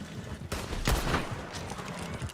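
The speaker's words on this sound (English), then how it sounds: "Right, stop shooting at me." Gunfire in the Red Dead Online video game during an Outrider telegram mission: a couple of sharp, loud shots that echo into a rumbling, noisy tail.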